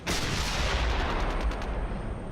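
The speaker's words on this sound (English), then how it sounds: "we'll go ahead and load Impat and just fire at the dudes there" An M1A2 tank in Steel Beasts Pro firing a HEAT round, a loud, dense blast that rumbles on with a sustained roar and faint crackling across the whole moment, with no talk.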